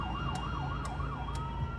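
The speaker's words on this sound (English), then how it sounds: "As West Midlands ambulance crew arrive on scene" A West Midlands ambulance siren wails in a steady rising-and-falling cycle as the crew arrives on scene, moderately distant over road noise.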